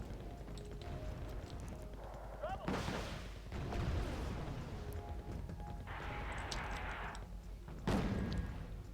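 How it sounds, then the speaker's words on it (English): Distant mortar fire in the Wargame Red Dragon battle game, a few heavy booming thuds spread out over a steady low rumble of ambient battlefield noise, with no voices. "Mortars are engaging those strop over there."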